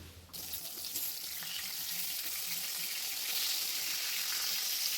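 Eggplant pieces frying in hot oil give a continuous, loud crackling sizzle that starts abruptly and holds steady up close, with no talking.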